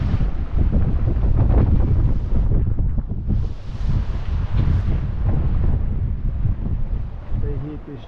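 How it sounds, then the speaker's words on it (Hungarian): A sailboat runs before a strong wind on the open Atlantic at dawn, and loud, close wind buffets the microphone in a roaring low rumble, easing briefly around the middle. "Szélben megyünk."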